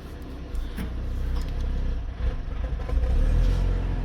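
A 2012 Cadillac CTS engine runs with a steady low rumble close by, then the sound drops away as it cuts off, with no talk over it.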